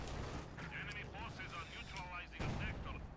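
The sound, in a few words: field artillery barrage in a video game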